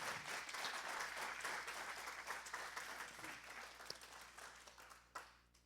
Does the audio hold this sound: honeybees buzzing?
no